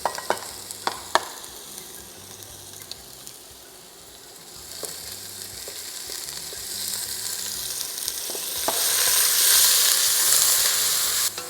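Garlic, pimento and onion fry in a pot for a geera pork dish, with a steady sizzle under occasional stirring clinks that swells into a louder hiss near the end.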